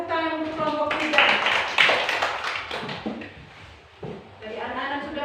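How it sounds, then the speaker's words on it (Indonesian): Classroom applause for a student group, a short burst of close, scattered hand clapping that swells and fades over a few seconds, with voices around it. "Tepuk tangan untuk kelompok 3."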